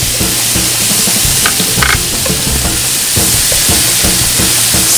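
Butter and onion sizzling in a pan while being stirred for a fish sauce, a steady loud frying hiss with scraping stir sounds, no voices.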